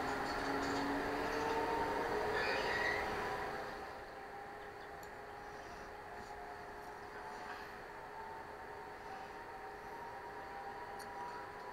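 A Berlin S-Bahn train runs in a train simulator game with a steady rolling rumble and hum. It is louder at first, then eases to a quieter constant drone with faint tonal whines.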